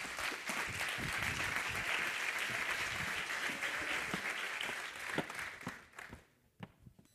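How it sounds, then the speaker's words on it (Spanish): Audience applause at a 2019 business intelligence talk, a steady roomful of clapping that swells, then thins out to a few scattered claps before falling quiet. "un aplauso para ellos."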